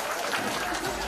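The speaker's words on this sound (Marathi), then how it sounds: "टाळ्या वाजल्या पाहिजे वहिनीच्या" A crowd applauds for the grand winner of a Home Minister Khel Paithanicha women's game show, with dense, steady clapping close by.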